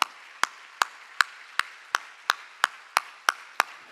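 A church congregation claps in unison in praise, sharp, evenly spaced claps about three per second, crisp and distinct against a quiet background.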